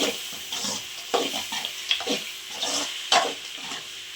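A spoon stirs salt into a mango rice mixture in a pan, giving repeated scraping strokes over a soft sizzle, close and irregularly paced, with no talking.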